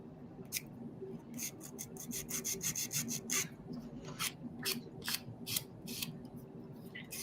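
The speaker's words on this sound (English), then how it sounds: "So I'm just sanding this down." An emery board rasps back and forth across a small craft piece meant to become a toy ski, making quick close scratchy strokes in uneven bursts, steady and fairly loud, with no talking.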